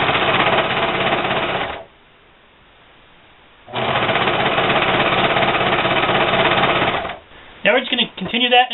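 A serger overlock machine runs in two long steady bursts with a short pause between, stitching the seams of a scarf made from a T-shirt, loud and close, ending with brief handling noises.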